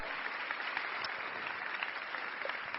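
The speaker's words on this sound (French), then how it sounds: "Oui, on peut l'applaudir." Faint, steady clapping from a congregation at a religious teaching session, a continuous dense patter heard at a distance without pauses.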